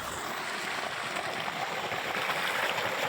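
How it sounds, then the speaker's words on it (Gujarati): Water from a farm pump motor pours into a field, a faint, steady gurgling flow heard up close with no break and no speech. "મોટર ચાલુ ત્યાં આવી ગયું છે પાણી"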